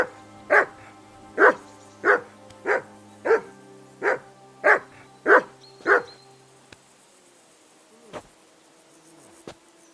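A dog in Kingdom Come Deliverance 2 barks about nine times in a regular, evenly spaced series, then stops, leaving quiet ambience with a faint insect-like buzz and a couple of soft distant noises.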